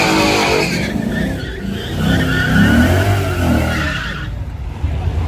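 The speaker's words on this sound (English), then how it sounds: "Oh, truck running." Engine roars and revs under load at a drag strip in Dallas, Texas, with a loud, sustained rumble and some tire squeal; a faint voice can be heard.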